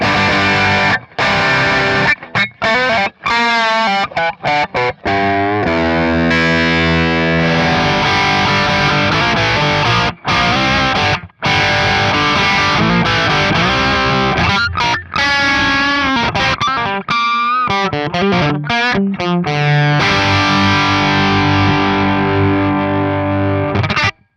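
A distorted electric guitar through a Harley Benton Vintage Overdrive pedal and a PRS Archon amp profile plays loud riffs and chords, gritty and saturated, with short pauses between phrases.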